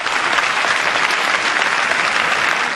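An audience applauds after a flute concert by a renowned flute soloist in a cultural centre hall, a dense, loud, sustained burst of clapping filling the room.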